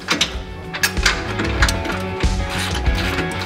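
A ratchet strap being cranked tight, a rapid series of close clicking pawl snaps in uneven bursts, fairly loud and without talk.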